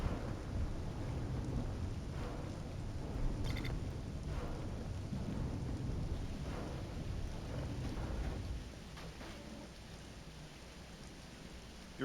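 Thunder from a lightning storm rolls through the Voices of the Void game world, a long heavy rumble mixed with steady rain that drops to a quieter patter near the end.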